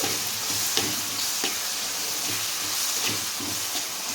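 Rice and cluster-bean biryani masala frying in a pan, with a continuous soft sizzle and a few light scraping stirs at regular intervals, close by and with no talking.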